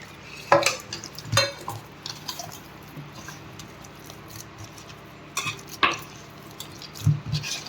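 Jackfruit appam batter paste being stirred and mixed in a bowl, with intermittent wet squishing strokes and spoon knocks against the vessel, close and fairly loud with quiet pauses between bursts.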